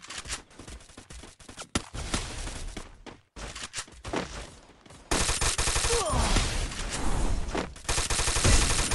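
Rapid bursts of gunfire crackle in the game Free Fire, dense automatic volleys with a brief lull, then a steady loud barrage continuing to the end.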